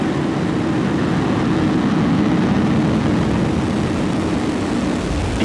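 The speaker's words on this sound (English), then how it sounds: "Ignition and liftoff, Falcon 9." A SpaceX Falcon 9 rocket lifts off from Vandenberg as a continuous loud, deep broadband roar with a steady rumble, heard alone without talk.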